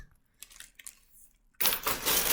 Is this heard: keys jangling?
yes